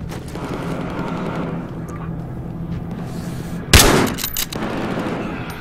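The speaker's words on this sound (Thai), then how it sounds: "กูยิงใครไม่โดนเลยครับ" A single loud gunshot blast rings out amid the ambient din of the video game Battlefield Hardline, with a brief decaying echo and a low steady background rumble before and after.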